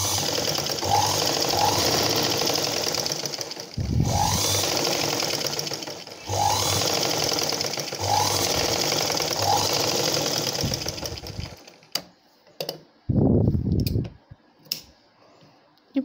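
Sewing machine stitching a blouse runs in steady, loud bursts of rapid mechanical whirring with short pauses between runs, then gives way near the end to scattered clicks and handling knocks, with no talk.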